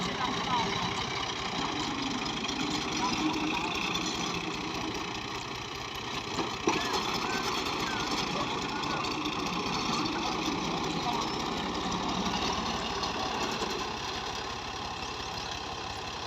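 An Italian-made Fiat 450 tractor idles with a steady, even rumble and a faint mechanical knock, moderately close, running unbroken throughout while people talk nearby.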